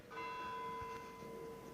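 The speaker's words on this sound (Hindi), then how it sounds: "घंटी बजी है, देखिए आप।" A church-type bell rings on and off over a steady tone during a spoken tribute, with no one talking over it, its overtones hanging clearly for nearly two seconds.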